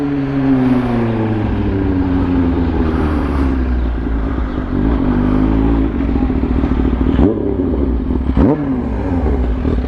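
A Kawasaki Ninja H2 with an aftermarket exhaust rumbles loud and deep at close range, its engine pitch rising and falling through several revs over a steady idle.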